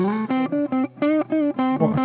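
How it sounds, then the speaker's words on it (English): An electric guitar played through a Boss reverb pedal rings out in a short run of loud, sustained plucked notes, each blooming with a lingering reverb tail and no talking. "Okay, let's try boss reverb, okay?"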